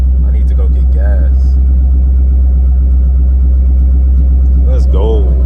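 A car engine idles loud and close at a Louisiana car meet, a steady deep rumble throughout with a voice briefly speaking over it near the start and end.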